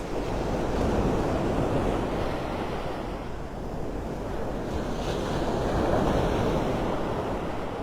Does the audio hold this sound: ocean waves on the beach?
yes